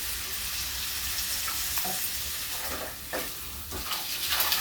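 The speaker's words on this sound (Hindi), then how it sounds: "इसे चलाते हुए और थोड़ा हम भूनेंगे 2 मिनट।" Dum aloo with curd sizzles steadily in a pan over low heat, with a continuous frying hiss and soft stirring scrapes that occasionally rise above the sizzle.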